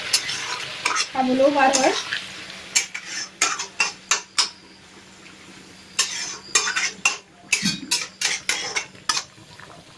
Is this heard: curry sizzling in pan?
yes